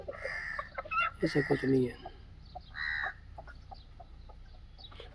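Desi chickens on a small farm cluck and squawk nearby in short bursts, with a brief spoken phrase mixed in among them.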